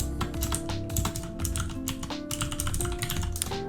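Rapid, continuous clicking of keys on a computer keyboard while writing Discord.js bot code, a dense, steady stream of close taps with no talking.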